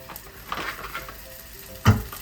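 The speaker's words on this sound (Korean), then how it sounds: "올리브오일에 마늘을 좀 넣고" Garlic frying in olive oil for a shrimp okonomiyaki, a soft steady sizzle with light stirring, close by and without talk, and a brief louder clink of the pan near the end.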